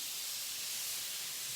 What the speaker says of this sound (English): You're going to hear big sizzle.